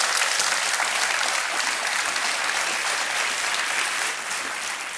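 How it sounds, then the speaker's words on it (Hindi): A studio audience on the KBC quiz show bursts into loud, sustained applause for a contestant from Kolkata who quits with 6,40,000 rupees; dense, even clapping fills the room throughout and eases slightly near the end. "तालियों के साथ इनका अभिनंदन"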